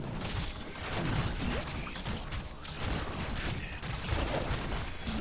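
Rapid gunshots crackle through a Heroes of the Storm team fight, dense bursts of shooting layered with whooshes and clashing game effects, steady and fairly loud throughout with no talking.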